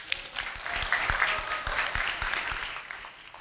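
An audience claps at a school event simulating a high-level political forum. The applause is a brisk, uneven patter of many hands that lasts a few seconds, close and moderately loud.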